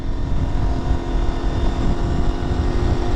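A helicopter flies overhead at a car meet, its engine and rotor producing a steady, loud droning roar that fills the whole moment without letting up.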